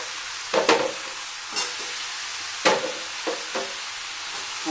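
Chicken and potato pieces are sautéed in a pan, a low steady sizzle broken by several distinct scraping stirs of a spatula, close and without talk.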